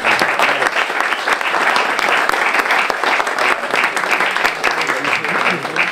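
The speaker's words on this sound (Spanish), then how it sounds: "Pido un aplauso para ellos." Sustained applause from a dinner crowd greeting three new Rotary club members at a twinning banquet, dense steady clapping throughout with faint voices mixed in.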